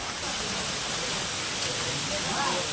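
Manikyadhara waterfall near Chikkamagaluru pouring off a rock face, a steady, dense roar of falling water close by that never lets up.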